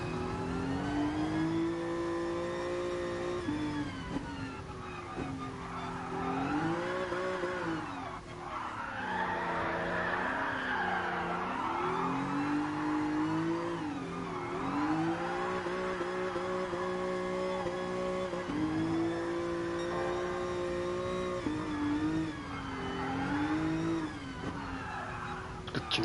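A car drifts in Gran Turismo Sport, with sustained tire squeal over a revving, shifting engine, loud and continuous for the whole stretch, no voices.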